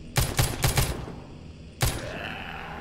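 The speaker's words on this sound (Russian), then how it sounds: "я в них стреляю" Gunfire from the zombie survival game The Walking Zombie 2: a quick run of about four sharp shots, a short pause, then one more loud report.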